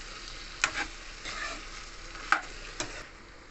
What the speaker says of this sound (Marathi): ही भेंडी आता पूर्ण परतवून घेऊ.